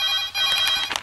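A telephone rings with a bright electronic trill, one short burst of repeated chirping tones in a quiet indoor scene, with no talking.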